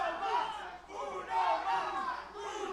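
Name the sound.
wrestling crowd chanting uno mas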